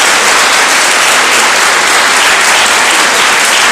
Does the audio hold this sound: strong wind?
no